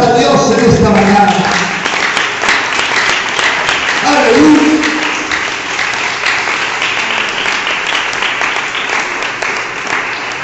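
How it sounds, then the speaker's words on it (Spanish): A church congregation applauding during a Sunday morning service, loud sustained clapping from a crowd with a preacher's voice speaking over the start. "Un aplauso para Dios en esta mañana."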